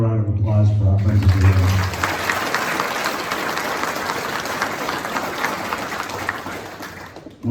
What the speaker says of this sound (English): So how about a round of applause for our friends of